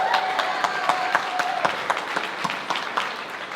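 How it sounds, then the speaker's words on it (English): An audience at a campaign event for a county judge candidate applauds, a steady patter of claps with scattered louder hits and a faint voice underneath, moderately close. "Can you give a round of applause for Mark?"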